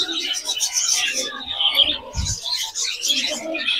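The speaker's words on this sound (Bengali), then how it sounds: "দেখুন দেখুন কত পাখি।" Many birds calling together at a crowded bird-feeding spot in Mysore, a dense continuous chorus of chirps and coos close by, with a few low thumps mixed in.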